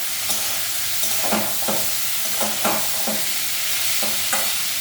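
Food sizzles steadily in hot oil while a spatula scrapes and stirs the pan in a series of regular strokes, close and fairly loud, with no talking.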